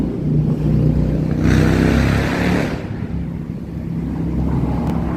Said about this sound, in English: There comes some motorcycles.